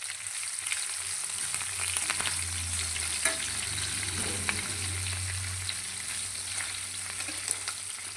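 Onions fry and soften in a pan for a bachalakura tomato curry, a steady close sizzle with light stirring scrapes and a low hum underneath, continuous and even, no one speaking.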